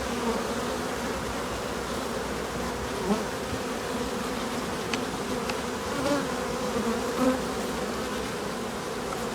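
Steady, droning hum of many honey bees buzzing together near a hive, continuous and close, with occasional louder passes of single bees.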